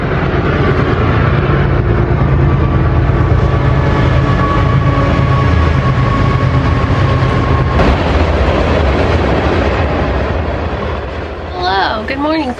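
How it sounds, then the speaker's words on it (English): A loud, continuous, train-like low rumble fills the space and holds steady throughout, with voices talking over it near the end. "It does sound like a train."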